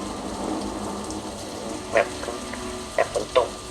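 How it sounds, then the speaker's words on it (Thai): Steady hiss of falling rain with a few brief, louder taps and splashes near the end. "แบบฝนตก"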